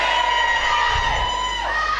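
A Buskerteers choir audience on a Saturday night at a Potters resort gives one side of the room a loud, full cheer that rises and holds for about two seconds, with shouting voices blended together.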